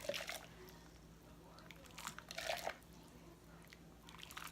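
Water scooped out of an overfull pot on the stove while cooking cabbage rolls with ground turkey, heard as faint, soft sloshing and dripping splashes in a few short bursts.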